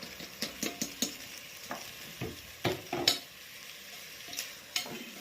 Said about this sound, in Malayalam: വെള്ളം ഒഴിക്കുന്നതിന് മുന്നേ നെയ്യില് അതൊക്കെ ഇളക്കി ഒന്ന് ഇതാക്കണം.